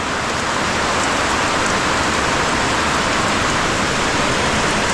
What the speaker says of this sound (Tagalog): Biruin nyo itong ulan na to. Lakas na ito.